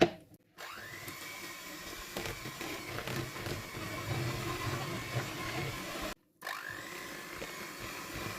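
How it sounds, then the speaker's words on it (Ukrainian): An electric mixer whips butter for a chocolate plombir cream, running as a steady loud whir for several seconds, stopping briefly twice and starting again. "Для початку потрібно збити масло, щоб воно стало пишним і трішечки посвітліло."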